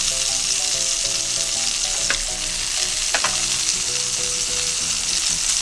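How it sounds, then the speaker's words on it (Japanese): Pork steak sizzling steadily in a frying pan over medium heat, a continuous close crackle with a couple of sharper pops and no talk. "今中火で焼いております。"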